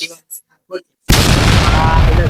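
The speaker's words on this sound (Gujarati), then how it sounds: "આ ફટાકડો આપણે જે બાળકો માટે ખાસ લેવા તે ફોડીને આપણે બતાવીએ તમને કેવી મજા આવે" A small children's firecracker is set off against a wall during a village Diwali celebration, bursting with a sudden loud crackling blast that sustains briefly after a few short spoken words.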